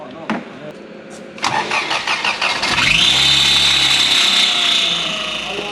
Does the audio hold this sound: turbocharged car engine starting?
yes